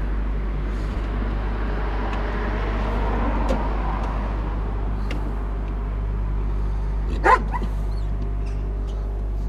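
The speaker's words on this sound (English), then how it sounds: "As you can hear, dogs are not very happy." Dogs bark with a louder outburst near the end, the barks and short yips standing out over a steady low hum and background traffic noise.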